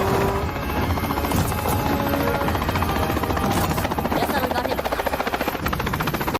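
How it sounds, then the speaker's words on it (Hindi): A loud helicopter thumps steadily overhead, its rotor chop pulsing rapidly and continuously close by. "अपना हेलीकॉप्टर भेजते हैं इसे पकड़ने के लिए।"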